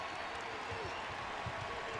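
Crowd noise at a college basketball game, Indiana University against Iowa, as a steady arena roar of cheering and scattered applause under a commentator's voice.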